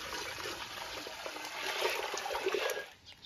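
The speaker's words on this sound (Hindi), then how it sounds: "प्रेशर कुकर में हम डाल लेंगे पानी" Water pours steadily into a pressure cooker set over a wood fire outdoors, a continuous close splashing trickle that swells slightly before tapering off at the end.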